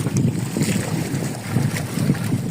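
A small fishing boat's engine runs with a steady low chugging rumble, heard close, with heavy wind buffeting the microphone and water noise around it.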